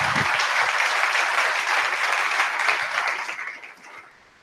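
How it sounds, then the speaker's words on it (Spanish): An audience at a public talk in Argentina breaks into dense, sustained applause, loud and even at first, then thinning out and fading away near the end. "Un aplauso también, por favor, para ellos."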